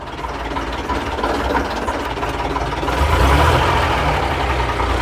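A 1958 Leyland PD2 double-decker bus engine runs with a loud, steady rumbling drone that swells slightly partway through, with no voices over it.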